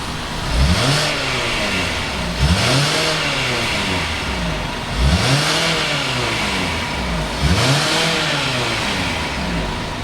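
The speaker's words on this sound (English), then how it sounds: "we're gonna go ahead and fire this one up and just see what the Night Edition" A 2019 Hyundai Tucson Night Edition engine revved four times in a steady pattern, each rev rising and falling over a constant idle hum, close by and loud with no talking.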